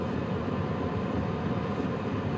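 An HCalory Toolbox Max diesel heater running on setting 4, its exhaust giving a steady, loud, broadband rumbling roar that holds constant throughout with no talk.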